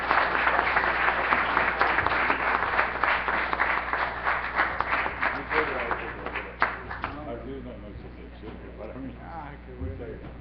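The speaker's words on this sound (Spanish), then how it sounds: "Un aplauso a los homenajeados de esta noche." Audience applause at a journalists' day ceremony honouring guests: a sustained roomful of clapping that thins and fades toward the end, with a voice talking over it.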